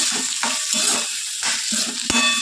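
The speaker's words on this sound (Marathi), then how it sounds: "याच्यामध्ये कांदा फ्राय करून घ्यायचं, थोडंसं टमाटर, मिरच्या, अद्रक आणि लसूण थोडंसं परतून घ्यायचं याला." Onion, tomato, green chilies, ginger and garlic fry and sizzle in hot oil, a steady crackling hiss broken by repeated short stirring scrapes, close and moderately loud, with no voices.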